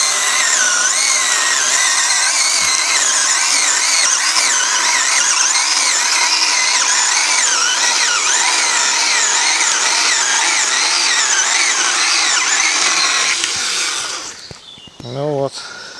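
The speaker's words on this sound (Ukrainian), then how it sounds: "ми її акумуляторною пилочкою розріжемо" Cordless handheld mini chainsaw, a copy of a Stihl, cutting through wood: a loud, steady high-pitched motor whine held for about fourteen seconds, then cutting out abruptly with a brief sputter at the end.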